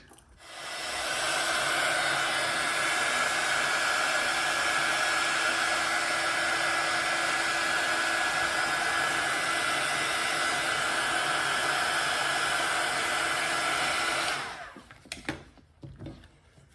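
A heat gun blows hot air on the midsole of an Air Max 1 sneaker, a steady loud whooshing roar for about thirteen seconds that then cuts off, followed by a few faint handling clicks.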